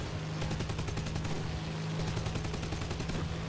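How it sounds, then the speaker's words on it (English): Aircraft cannon in War Thunder fires in rapid bursts of sharp, evenly spaced shots, with a brief pause between two strings. A steady low engine drone runs underneath, and no one speaks. "let's check out that cannon sound again"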